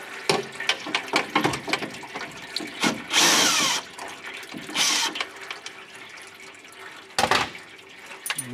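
Tool work under a 2019 Chevrolet Silverado during a transmission repair, with scattered metallic clicks and ratcheting taps on a loose bolt plus a few louder, longer whirring bursts.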